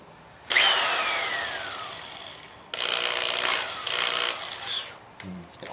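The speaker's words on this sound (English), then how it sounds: "Okay, let's drill some holes." Power drill boring holes into a floor to mount a manual tire changer, a loud steady whine for a couple of seconds, then further drilling bursts with a slight rough wobble.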